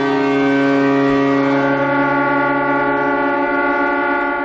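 A distant air-raid style siren drones in a long, unwavering tone across a vast silent crowd standing at a memorial in North Korea, steady and sustained with no voices.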